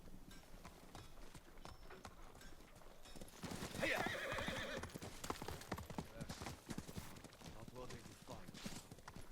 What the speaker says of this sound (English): We have the digital deluxe horse.